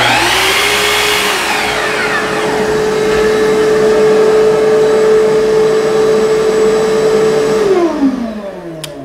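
Table saw running with a built-in shop vacuum and a Dust Deputy cyclone collector, a loud steady motor whine with broadband airflow roar lasting several seconds, then winding down near the end.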